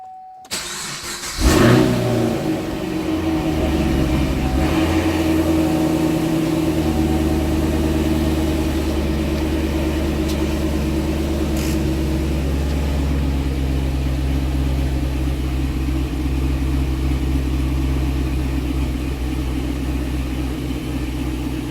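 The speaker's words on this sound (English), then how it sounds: "do a quick cold start." A Chevrolet Camaro SS 1LE cold-starts in snowy weather, a loud crank and firing catch after about a second and a half, then a steady, deep, rumbling idle that holds close and strong to the end.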